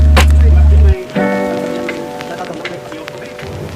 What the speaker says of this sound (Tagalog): biglang buhos ang malakas na ulan